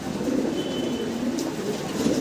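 A pair of Lahori pigeons coo close by in a steady low murmuring drone that carries on continuously, with no talk over it.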